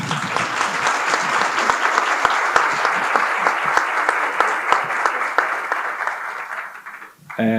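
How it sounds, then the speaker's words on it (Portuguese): Sustained audience applause for an author at a book festival talk, dense and steady for about seven seconds before fading and giving way to a voice at the end. "Então, palmas para o Chukwuebuka."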